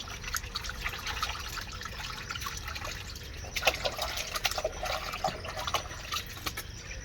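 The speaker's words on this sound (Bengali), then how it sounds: "ধুয়ে নিচ্ছ চিংড়ি মাছগুলো?" Prawns are washed in water, giving a faint, continuous trickling and splashing with small irregular drips, close by and quiet, with no talk.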